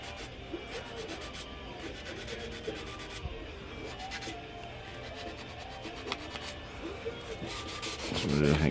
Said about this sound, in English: I'm just running over it here with some 400 grit.